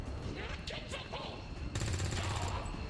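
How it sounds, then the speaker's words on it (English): Rapid assault rifle fire in the turn-based strategy game XCOM Long War 2 breaks out as a dense burst of shots near the end, over continuous game background noise. "You might as well just take a shot with your assault rifle on this guy."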